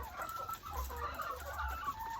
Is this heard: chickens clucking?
yes